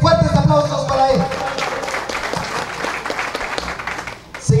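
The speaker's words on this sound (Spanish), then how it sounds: "Fuertes aplausos para él." Crowd at a rural school classroom inauguration in Tajumulco claps in a dense, sustained burst; a voice briefly overlaps the start before the applause carries on alone to the end.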